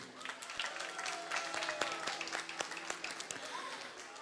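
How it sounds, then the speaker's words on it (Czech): An audience at a festival claps in a scattered, moderately quiet round of applause, with faint voices mixed underneath. "takže potlesk pro paní Radku Voříškovou."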